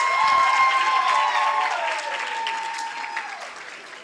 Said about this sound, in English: Let's give her another encouraging round of applause.